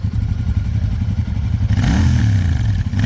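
A Royal Enfield Scram 411 motorcycle engine rumbles steadily nearby, then revs up with a rising, sweeping roar.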